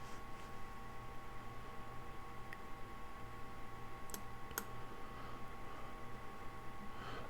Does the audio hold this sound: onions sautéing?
no